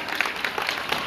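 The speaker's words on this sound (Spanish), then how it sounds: "fuerte el aplauso" Guests at a sixteenth birthday celebration break into a short burst of applause, a fairly soft, continuous patter of many hands with a few clearer claps rising above it.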